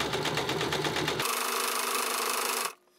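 A sewing machine runs fast while stitching skirt fabric along a folded edge, a rapid steady mechanical chatter that carries close and loud, then cuts off abruptly near the end.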